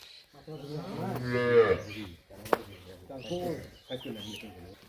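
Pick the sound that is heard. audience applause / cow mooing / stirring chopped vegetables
cow mooing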